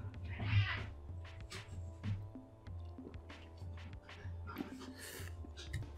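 Several faint, drawn-out cat meows and yowls rise and fall at a low level, with soft thunks and clatter underneath.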